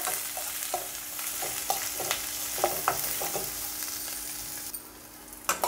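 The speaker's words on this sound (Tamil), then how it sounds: "அதுலேயே வெங்காயத்தையும் சேர்த்து வதக்கிக்கலாம்." Onions sauté with cumin, dried chilli and curry leaves in a pan, a low steady sizzle under a regular series of sharp spatula taps and scrapes against the metal.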